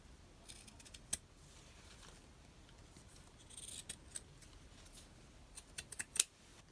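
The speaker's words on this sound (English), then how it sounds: "Let me just cut off a bit and see." Scissors snip through a small piece of white doily, with soft rustling handling noise and a few quiet, sharp cuts spread out, the last ones in a closer cluster.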